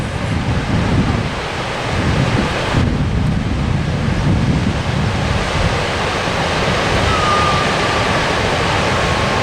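A waterfall in El Dorado National Forest, California, roars as a steady, dense rush of falling water, close and loud, continuous with no voices.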